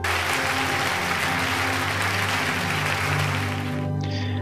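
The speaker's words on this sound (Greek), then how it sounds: "Χειροκροτήματα θερμά εν τη ηθούση" Warm applause fills a hall as a crowd claps in a dense, sustained wash. It cuts off abruptly near the end.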